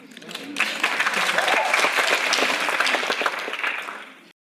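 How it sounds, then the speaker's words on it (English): An audience breaks into sustained applause, loud and dense, building quickly and holding steady for several seconds before cutting off abruptly. "Is that really an applause line?"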